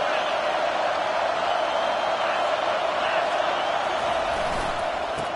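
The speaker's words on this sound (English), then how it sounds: "This crowd trying to make life miserable for this offense" A stadium crowd in a Madden football video game keeps up a constant, dense roar of cheering with no distinct peaks or pauses.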